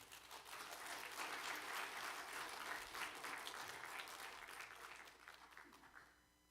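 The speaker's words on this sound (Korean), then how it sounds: "큰 박수로 한번 기쁨으로 환영하겠습니다" A church congregation at a Korean Sunday worship service applauds to welcome a pastor, a soft, distant-sounding sustained wash of clapping that tapers off at the end.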